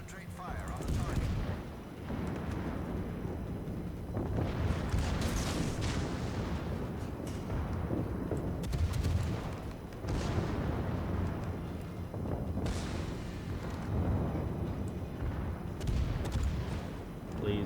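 Naval gunfire from warship batteries in World of Warships during a ranked battle, with heavy booming salvos rolling repeatedly across a dense, continuous battle din, loud and sustained under a talking voice.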